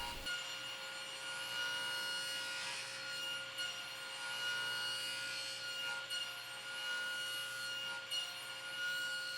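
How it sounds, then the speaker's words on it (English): Table saw with a flat-ground crosscut blade making repeated overlapping passes through wood to clear a dado: a continuous loud whine with rough swells of cutting, close and without speech. "Lena just had to make repeating overlapping cuts from one shoulder to the other"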